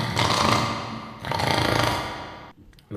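A voice imitates snoring with two long, raspy throat rumbles, one after another, close and fairly loud, as one step of making a lion's roar from the throat.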